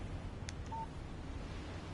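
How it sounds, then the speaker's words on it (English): Phone alert tone from the Alan Wake video game: a brief soft chime near the start followed by a short clear beep, faint over a low steady background hum. "Text message from Barry."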